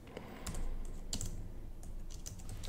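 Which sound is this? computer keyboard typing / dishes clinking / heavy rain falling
computer keyboard typing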